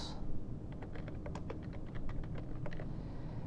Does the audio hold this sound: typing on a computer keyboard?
yes